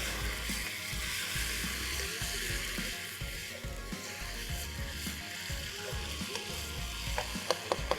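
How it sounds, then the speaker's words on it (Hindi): Mutton sautéed in a karahi, a dense, even sizzle and crackle throughout with scattered spatula knocks, a few sharper clicks near the end. "भुनाई पे आपने हिम्मत नहीं आनी है, भुनाई आपने खूब करनी है।"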